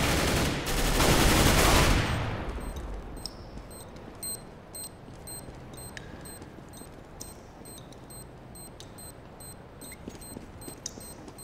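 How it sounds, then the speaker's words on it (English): A flashbang goes off in a bomb-defusal shooter video game, a loud blast lasting about two seconds, followed by quieter game sounds with faint repeating ticks and beeps. "Flashbang."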